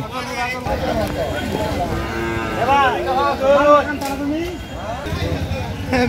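A young native calf moos repeatedly at Sajanpur cattle market in Kishoreganj, drawn-out calls rising and falling amid a crowded background of voices and bargaining chatter.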